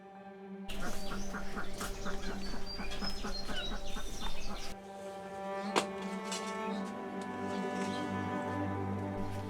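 Several birds call and chirp together in the morning in Bangladesh, including quacking ducks, a busy outdoor chorus layered over a steady background hum.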